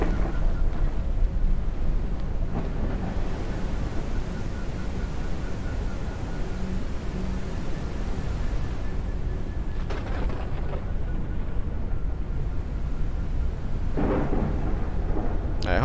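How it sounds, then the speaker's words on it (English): Thunderstorm with rain in the Forever Skies game: steady heavy rain hiss with rolling rumbles of thunder, a louder crack near the end, constant and close. "Hopefully this storm won't last too much longer."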